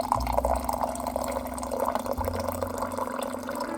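Water pours steadily into a cup for herbal tea of orange peel, ginger and spearmint, a continuous trickling, splashing flow over a low steady hum, close and moderately quiet.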